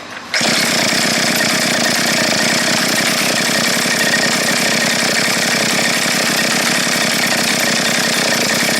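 A repaired 411 brush cutter engine starts abruptly and runs steadily at a loud, high rev, its two-stroke buzz close and continuous with no talking.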